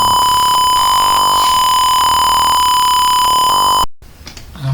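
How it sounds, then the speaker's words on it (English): A steady electronic buzzer tone from an Arduino water tank simulation in Tinkercad, signalling the most urgent tank-level state alongside a running pump; the continuous beeping drone holds loud for about four seconds, then cuts off abruptly. "Pump is running, buzzer is sounding, the red LED is on,"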